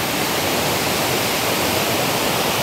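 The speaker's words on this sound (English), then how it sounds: "you can hear that sound of water, very peaceful," Waterfall water rushing near a temple in Chiang Mai, Thailand, a steady dense broadband roar that holds evenly and fairly loud throughout with no voices.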